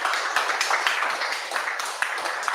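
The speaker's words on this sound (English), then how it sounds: "let's get another round of applause for Peter." A small audience at a PHP Sussex meetup gives dense, steady applause with many overlapping hand claps, close and even throughout.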